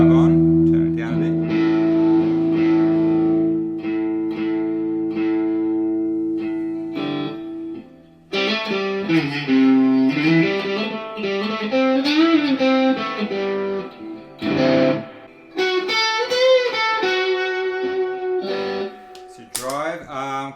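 An electric guitar plays through an overdrive drive pedal on a pedalboard, sustained chords and then melodic phrases with a gritty, loud tone and no talk.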